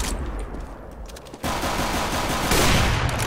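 Two loud AWP sniper rifle shots in Counter-Strike Global Offensive crack out in quick succession, each a sharp blast with a ringing tail, heard alone without voices.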